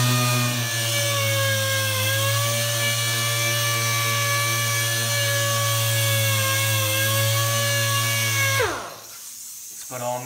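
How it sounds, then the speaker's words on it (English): A power sander works the fresh paint of a car's new paint job, a loud, steady motor whine held close for about eight seconds before it cuts off and spins down. "Just sand that area out as good as you can."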